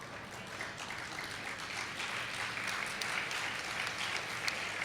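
Steady, continuous applause from an audience at a Tamil comedy pattimandram debate, a dense wash of many hands clapping at even loudness throughout with no voices above it.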